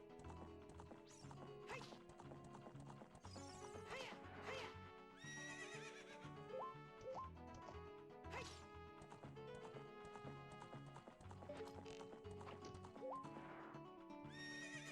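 A horse in Ocarina of Time whinnies loudly and its hooves clip-clop at a gallop, with game music and effects playing throughout.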